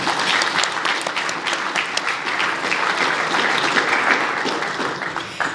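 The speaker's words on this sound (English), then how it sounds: "Let's give our head table a round of applause." A luncheon audience applauds the head table, dense steady clapping from many hands that fills the room at an even level throughout.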